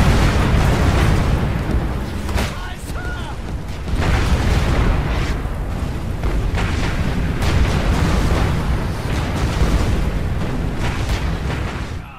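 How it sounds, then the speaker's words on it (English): Incoming artillery fire in War Mongrels, a World War II tactical video game, during a convoy attack: heavy explosions and booms pound continuously at close range, loud and layered, with blasts following one another without pause. "Incoming artillery fire!"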